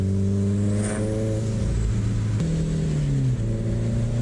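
Car engine, a turbo Subaru STI or similar, droning loud and steady from inside the cabin while driving in traffic, its pitch climbing slightly and then shifting down partway through.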